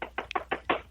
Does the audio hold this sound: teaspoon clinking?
no